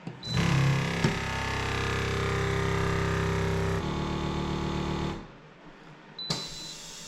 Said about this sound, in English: And we're simply gonna hit auto, which is vacuum and seal.